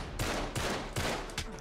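Shotgun blasts in the video game Uncharted 3: Drake's Deception, about four loud, booming shots spaced roughly every half second, each with a short rumbling tail.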